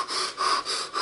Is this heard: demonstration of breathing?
yes